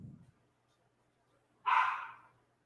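A single close, sharp dog bark sounds once after a short quiet stretch, following a brief low thump at the start.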